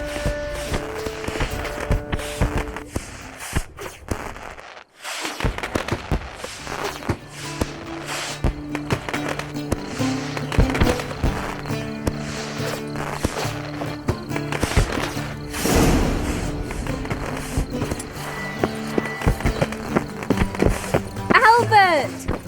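In The Witcher 3: Wild Hunt, horse hooves clip-clop in a steady walking rhythm under game music and character dialogue, now and then fading as other sounds rise.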